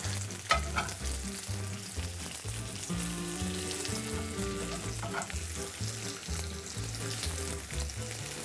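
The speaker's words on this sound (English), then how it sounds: "I'm going to take some nice thick cuts of mozzarella, get this started in this pan." Thick slices of mozzarella fry in a hot pan for a grilled cheese, giving a steady, close sizzle and crackle that carries on alone without a break.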